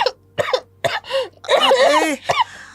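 Short, sharp coughs come in a quick series of close bursts, one after another with brief gaps, loud and dry, alone without other sounds.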